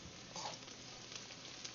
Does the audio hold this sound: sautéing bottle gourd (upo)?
yes